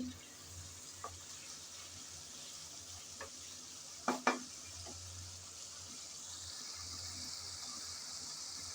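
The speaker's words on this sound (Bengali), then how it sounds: "কিছুক্ষণ সময় নিয়ে মশলা ভালোভাবে কষিয়ে নিলাম।" Masala spice paste fries in a pan with a steady, soft sizzle, broken by a few sharp scraping stirs of a spoon near the middle.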